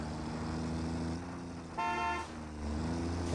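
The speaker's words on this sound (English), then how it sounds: "I wonder if it'll honk its horn every time." A vehicle horn in the video game Satisfactory gives one short, clear honk over a steady motor drone, fairly close and loud against the rumble.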